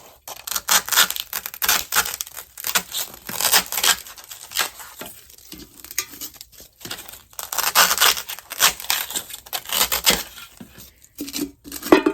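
Foam cut and trimmed for a craft project, producing repeated close crinkly tearing and snipping bursts in uneven rhythm, with short pauses between strokes.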